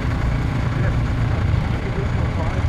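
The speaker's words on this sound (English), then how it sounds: "lawnmower engine on that one." A demo motorcycle at a trade show ride area runs with a small, lawnmower-like engine, a steady low rumbling drone heard outdoors over broad background noise.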